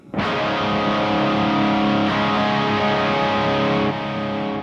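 Heavily distorted electric guitar holding a thick, sustained chord, loud and continuous, with a brief re-strike near the end.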